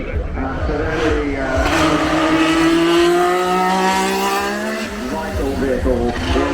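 A turbocharged Renault RS10 Formula One car roars past at close range, its engine note climbing and then falling away as it passes, with a steady loud rumble throughout.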